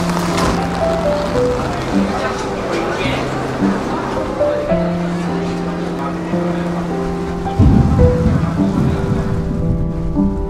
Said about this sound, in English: It's really pouring right now.